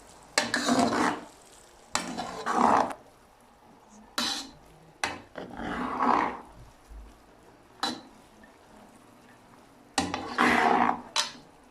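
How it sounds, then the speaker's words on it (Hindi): Sweet jaggery rice is mixed in a pot in about six separate bursts of scraping, rustling stirring, each lasting a second or so, with short quiet pauses between them and no talking. "अब हम इसको अच्छी तरह चावलों को मिक्स कर लेंगे।"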